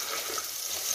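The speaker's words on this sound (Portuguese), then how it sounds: "Aqui eu já liguei o fogo, botei um pinguinho de óleo na panela. Aí agora eu vou botar aqui o frango." Chicken pieces fry in a pan with oil and butter, giving a steady, dense sizzle that is close and fairly loud throughout, with no talking.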